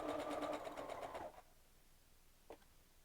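Sewing machine running a continuous stitch line along fabric edges in a sewing room, a steady whirring burst for over a second that then cuts off, leaving quiet with one brief faint tap.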